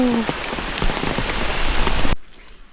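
Heavy rain pours onto surfaces in a dense, loud, steady hiss, then cuts off abruptly near the end, leaving near silence.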